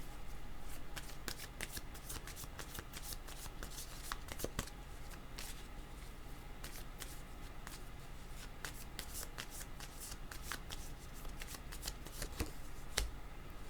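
Tarot cards are shuffled by hand for a card reading, a continuous close riffle of soft flicks and slaps lasting throughout, steady and fairly quiet with no speech.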